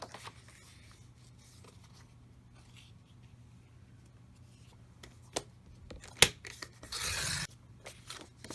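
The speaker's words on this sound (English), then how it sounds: "So I'm going to cut that at 9 inches." Scissors cutting card stock to size for a handmade Christmas card, a few close, crisp snips and rustles spread out over a quiet background with a faint hum.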